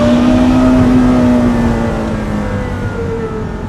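A Porsche Carrera GT engine revs hard, its tone holding strong and then easing off as the roar fades, loud and close.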